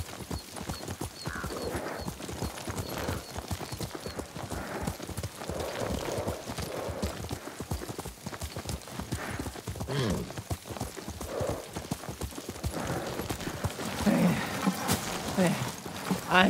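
Galloping horse hooves in Ghost of Tsushima, a rapid steady clip-clop rhythm running throughout at close range, with a faint whinny and soft voices mixed underneath.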